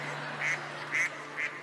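A man performing a silly bird act on a talent-show stage imitates a duck with his voice, giving three short, nasal quacks evenly spaced, fairly loud and close, with no other talking.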